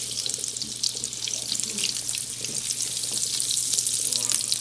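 Unsalted butter melts in a hot pan on a stove turned up high, hissing in a continuous close sizzle with a faint low hum underneath.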